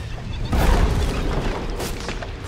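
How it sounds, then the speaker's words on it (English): A Dota 2 tower under attack sends out a dull, heavy boom followed by rumbling impacts and crackling hits, fairly loud, set against ambient game sound. "My Dire's bot tower is taking a beating."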